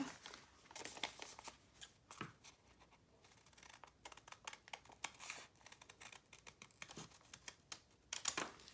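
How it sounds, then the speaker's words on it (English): Folded paper for a handmade journal is trimmed across the top, giving a steady run of crisp, close snips and papery crinkles with uneven rhythm and no talking. "I'm going to go ahead and trim the top."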